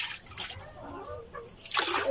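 Water is poured and splashes in short bursts during a bath, intermittent sloshing and trickling at close range with brief pauses between pours.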